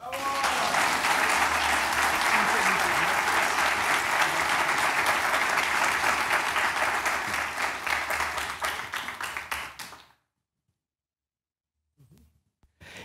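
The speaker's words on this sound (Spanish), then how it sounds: "un aplauso para nuestro principal solista" Loud, sustained audience applause for the soloist and founder of an early music ensemble at a concert, dense clapping for about ten seconds before cutting off to near silence with a few faint sounds at the end.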